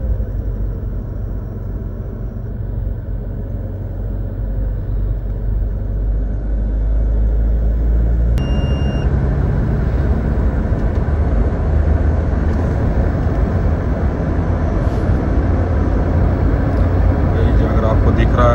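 A Mahindra Scorpio Classic with ARC suspension cruises at about 120 in sixth gear, a loud, steady road and engine rumble filling the cabin, growing slightly fuller midway, with voices talking over it.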